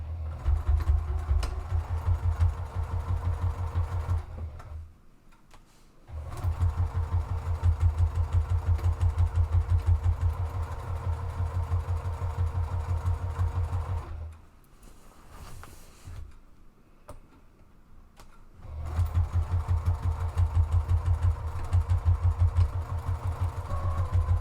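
A sewing machine stitches around the edge of a drawstring picnic bag, running in long steady hums that stop briefly twice before starting again, close and loud, with no voices.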